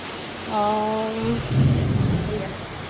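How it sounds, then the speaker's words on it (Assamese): Thunder rolls in a low, heavy rumble through steady heavy rain under dark, stormy skies, preceded by a brief tonal wavering sound. "পুৰা গাজনি"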